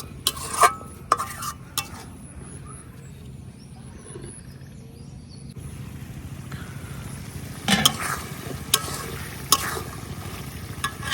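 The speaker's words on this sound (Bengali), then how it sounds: "এখন আবারও একটু কষাই নিলাম।" Spices and jackfruit seeds being stir-fried in a pan, with a low steady sizzle under repeated scraping and clinking of a spatula against the metal, a few sharper knocks standing out.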